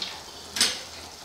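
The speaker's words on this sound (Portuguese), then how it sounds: "Agora que eu vou adicionar a colher de baunilha." A spoonful of vanilla poured into hot caramel syrup sets off a brief, sharp hiss that flares up and fades within a second against a low background simmer.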